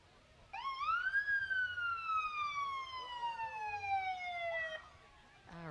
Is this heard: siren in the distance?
yes